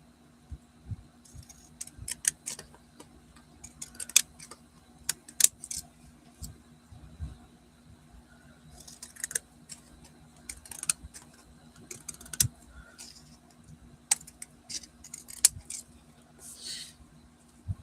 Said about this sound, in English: I'm going to do a little more cutting up.